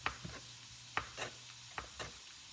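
Faint, sharp knife knocks from rough chopping food on a cutting board come in uneven pairs during home cooking, with a quiet background hum and no talking.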